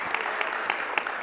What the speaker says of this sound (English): Can we give Sierra a big round of applause?